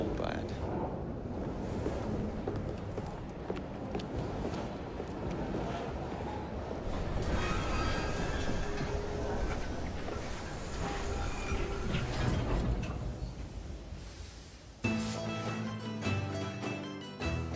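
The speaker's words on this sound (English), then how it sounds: "at least we have a train now" A train running in the Assassin's Creed Syndicate video game, a steady rumbling rattle that holds loud for most of the stretch, with a shift in tone near the end and game music or voices mixed in.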